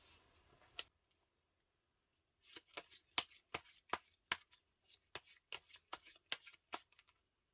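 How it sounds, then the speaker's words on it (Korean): Tarot cards being shuffled and drawn: a single soft snap, a pause, then a quick run of crisp card flicks and slaps at close range, with no voices. "그럼 그 사람이 분홍꽃님들에게 앞으로 할 행동들, 과연 어떤 행동을 할지 카드를 몇 장 뽑아볼게요."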